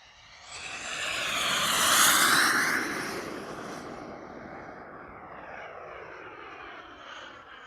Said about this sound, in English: now the airplane just flies fantastic